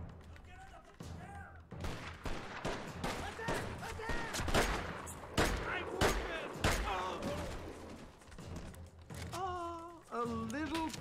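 Gunfire in the Mercenaries 2 video game crackles in repeated sharp bursts and single shots, close and punchy, with brief gaps between volleys and voices talking over the shooting.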